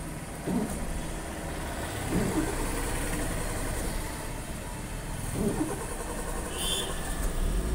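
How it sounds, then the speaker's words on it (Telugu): A car engine runs with a steady, low idling rumble throughout, with a few faint bumps and knocks. "ఓకే, మనకి ఇంజిన్ స్టార్ట్ అయింది."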